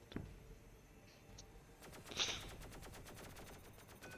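A plasma minigun fires warning shots during a video game tournament match, a faint rapid rattle of automatic fire with one sharper burst, heard at a distance with no voices.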